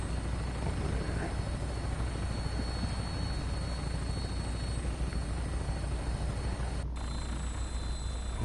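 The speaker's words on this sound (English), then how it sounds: "The helicopter." A helicopter in the video game Fallout 4 gives a steady, close rotor thrum and engine drone, loud and unbroken, with a brief electronic blip near the end.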